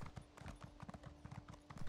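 Steady, rhythmic clip-clop of horse hooves as a mount trots along in the video game The Elder Scrolls Online, close and continuous with no talk over it.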